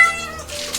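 A single short, affectionate meow from a black cat indoors, close and clear.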